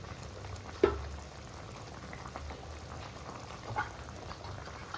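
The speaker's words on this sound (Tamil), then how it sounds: "புளி தண்ணி ஊற்றுனதுக்கப்புறம் நல்லா கொதிக்குது" Steady bubbling of tamarind water boiling in a pot for mango curry, a soft continuous simmer with a couple of brief louder pops, close by and no talking.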